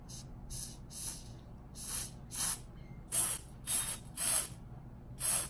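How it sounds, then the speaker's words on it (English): Solar dust spray hisses out of a can onto a box in a run of about ten short bursts, irregularly spaced and growing louder toward the end, close to the listener. "But first, I need to spray this box to see"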